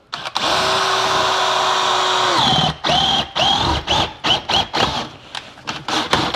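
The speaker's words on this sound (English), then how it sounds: "Second step would be to drill your hole" An auger bit on a power drill whines steadily through a wall, its pitch dropping as it bites in, then revs in a series of short bursts with brief pauses between.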